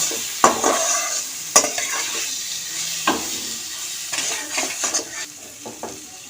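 Onions sizzle in hot oil in a pan as biryani is prepared. A metal spatula stirs them, giving several sharp clanks against the pan over a continuous close frying hiss.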